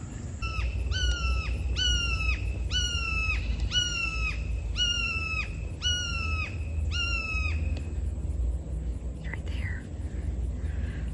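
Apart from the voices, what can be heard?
red-shouldered hawk calling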